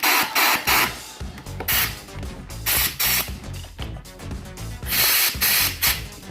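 Loud bursts of compressed air hissing in short blasts, close up, blowing dust out of the motor of a Ryobi RLM18E40H cordless lawnmower, starting and stopping irregularly over a mechanical background.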